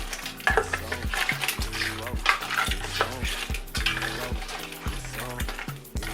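Seafood and assorted meat okra soup with ogbono gets stirred in a pot, making rhythmic scraping and clinking of a spoon against the pot in quick repeated strokes over a soft simmering hiss, close by with no talk.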